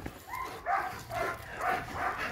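A lively dog outdoors gives a series of soft, moderately close whining yips and whimpers, several short calls coming in an uneven rhythm, with no one talking.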